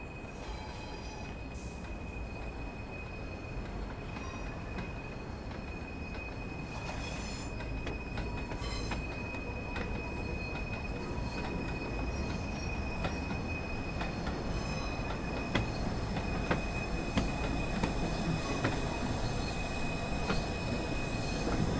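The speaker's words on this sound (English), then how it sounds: "Stand on the platform and wait for this train to arrive." A train in Train Sim World 3 pulls into a station platform, a steady rolling rumble that swells gradually, with wheel squeal and faint clicking over the rails.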